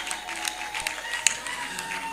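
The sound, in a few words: wedding guests applauding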